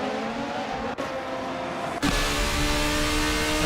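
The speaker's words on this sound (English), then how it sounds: "ASMR stream for the sound of Super Formula cars" Super Formula race cars in a racing video game at Suzuka, a steady high-pitched engine drone that jumps louder partway through as a car comes closer, with continuous revving and no talk.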